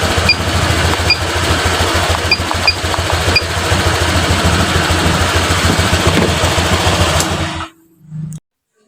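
A Honda Vario LED scooter with a sluggish, stuttering throttle fault runs loud and close on a test ride, a steady buzzing engine drone that cuts out abruptly near the end.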